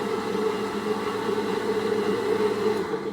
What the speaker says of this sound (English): I love this blender so much.